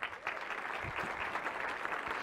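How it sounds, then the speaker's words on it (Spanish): Audience applause welcoming the evening's guest at a cultural talk event, a short, even patter of clapping from a modest crowd, fairly soft and distant. "quiero pedirles por favor que recibamos con un fuerte aplauso al invitado de esta noche"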